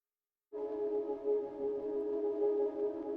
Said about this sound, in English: We have some tonal background sounds.